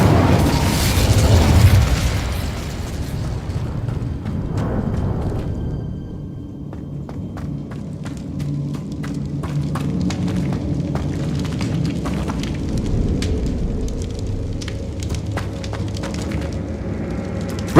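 An Incendio fire spell is cast in Hogwarts Legacy: a loud whooshing, fiery burst at the start gives way to softer crackles, clicks and footsteps in a quieter scene.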